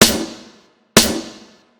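Saturated, tube-distorted snare drum sample for a hip-hop beat: two loud, gritty hits about a second apart, each with a bright crack and a fuller, longer decaying body, with nothing else around them.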